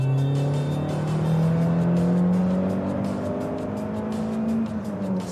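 Alfa Romeo GTV 2.0 Twin Spark naturally aspirated engine revving loudly up through the range, a strong rising tone that climbs steadily, holds near the top, then eases off slightly, with no talking.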